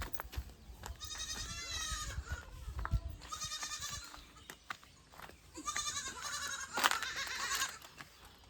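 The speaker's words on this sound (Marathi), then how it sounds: "तर इथे जे आहे बघू शकता बकरीचं पिल्लू आहे" Young goat kids bleat in a village setting, several short, wavering cries in quick succession, fairly close but soft, with quiet gaps between calls.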